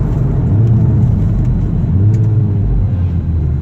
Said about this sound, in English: Just accelerate generally up to about 60-70 mile an hour, and then progressive braking